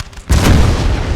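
Cannon fire in Napoleon Total War during a Bavaria campaign battle: a single loud, close boom erupts after a quiet moment and rolls on as a heavy rumbling tail.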